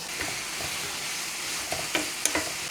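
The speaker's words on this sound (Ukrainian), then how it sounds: "яблочки пошли, родимые, сюди, в нашу пательню" Apples frying in a pan for filled pancakes, a steady close hiss of sizzling with a few soft scrapes and clicks of stirring, no talk over it.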